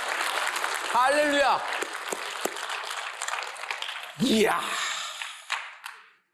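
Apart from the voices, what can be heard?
congregation applause in church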